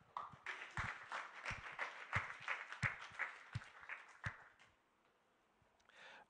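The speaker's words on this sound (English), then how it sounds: "give a round of applause to everyone from 6th through 24th" Scattered audience applause at a programming competition event, with distinct individual claps that thin out and fade after a few seconds.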